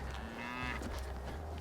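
A single cow moos once, a drawn-out tonal low call heard at a moderate distance over steady wind or outdoor rumble on a walk through farmland.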